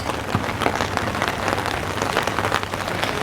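Steady rain pattering on a street at night beside outdoor food stalls and cafes, a dense continuous hiss with scattered louder drops, fairly close and alone without voices.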